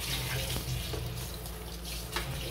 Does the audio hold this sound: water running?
yes